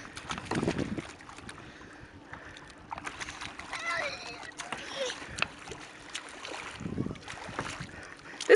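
Kayak gliding on Bear Lake, paddle strokes dipping and splashing in irregular bursts with water lapping against the hull, wind buffeting the microphone, and people chatting nearby.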